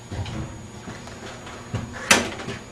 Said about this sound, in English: Now door closed.